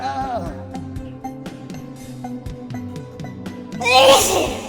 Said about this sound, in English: I've sneezed my legs out again.